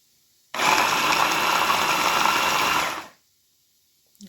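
A kitchen blender chops mushrooms in a single loud, steady whir of about two and a half seconds that starts and stops abruptly, with silence on either side.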